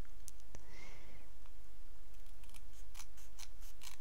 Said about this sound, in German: Und jetzt schneide ich mir hier einfach den Rand weg, dass da quasi wirklich nur die silberne Folie zu sehen ist